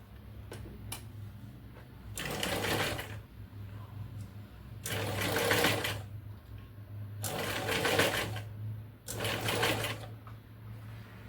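A sewing machine stitches the back neck of a blouse in a tailoring lesson, running in four loud whirring bursts of a few seconds each, separated by pauses with a faint background hum.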